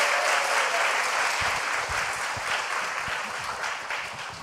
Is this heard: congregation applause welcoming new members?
yes